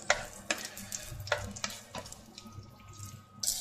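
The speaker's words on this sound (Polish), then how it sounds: "Rzucę cebulkę i będę smażył do miękkości." Onion and smoked pork fatback sizzle softly in a pan, broken up by scraping and stirring clatter close by.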